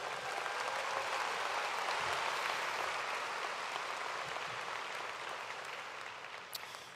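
A large crowd claps at a university commencement ceremony, a broad, even wash of applause lasting several seconds that slowly thins toward the end, heard somewhat distant and soft.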